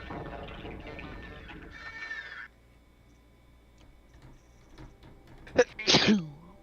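A soft murmur of voices fades to near quiet, then a sharp, sudden sneeze bursts out close by near the end.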